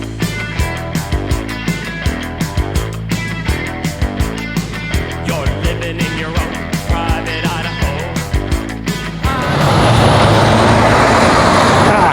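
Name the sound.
truck and vehicle traffic sounds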